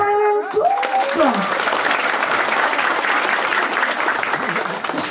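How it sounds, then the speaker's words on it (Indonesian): Crowd at an Islamic religious gathering in a Javanese village breaks into loud, sustained applause right after a voice, clapping continuing densely to the end. "Tepuk tangan juga."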